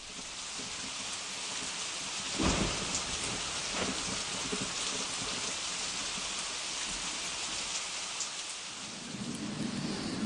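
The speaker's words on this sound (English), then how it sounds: "I don't know if you can hear the rain dripping on what's called the halfway hut" Steady rain patters and drips on a hut roof nearby, a constant hiss with occasional heavier drops and a low rumble in the background.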